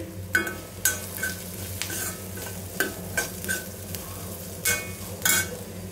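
Onions and radish fry in a pan for a radish chutney, with a steady sizzle under repeated scraping stirs of a spoon against the pan at an uneven rhythm, with no talking.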